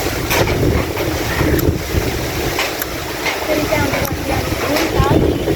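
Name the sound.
strong wind before a storm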